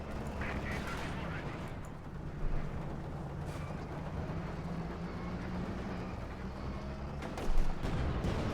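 A Panther tank firing in a Company of Heroes 2 match, heavy booms rising out of dense battle noise, with a commentator's voice running over it.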